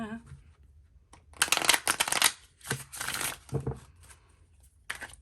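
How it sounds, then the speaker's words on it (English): Shadowscapes tarot cards riffle shuffled by hand in several quick bursts, crisp fluttering clatters, close and moderately loud, with brief pauses between riffles. "Better riffle shuffle than that."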